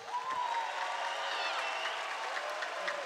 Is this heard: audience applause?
yes